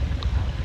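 Strong wind in a watermelon field rumbles low and loud against the microphone in a continuous gusty roar, with no voices during the brief moment.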